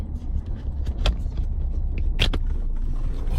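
A Datsun 260Z running triple Mikuni carburettors drives along the road, its engine a steady low rumble with a couple of brief sharper rasps over the top.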